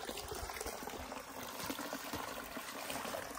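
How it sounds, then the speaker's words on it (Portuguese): Water trickles and leaks out of a small pond at a forest campsite, a close, continuous bubbling and dribbling flow, fairly quiet but steady throughout with no talking. "Pela quantidade de água que vaza aqui, ó."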